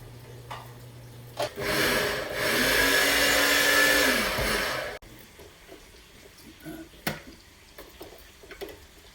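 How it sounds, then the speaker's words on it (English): A small Oscar food processor chops cut-up potato pieces, a loud steady motor whir running for about three seconds in the middle, with quieter kitchen clatter before and after. "I use this little Oscar food processor."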